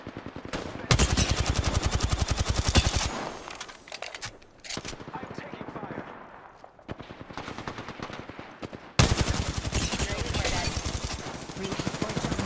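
Bursts of automatic gunfire in Apex Legends, rapid rattling volleys in several separate stretches with short pauses between, loud and close, with brief game voice lines mixed in.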